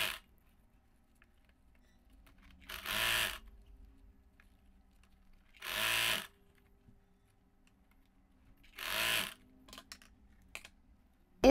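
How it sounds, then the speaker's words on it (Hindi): A sewing machine stitches net fabric on a ruffle saree in three short separate bursts of whirring, each about a second long, with quiet pauses between them. "अब ऊपर से सिलाई लगाएंगे"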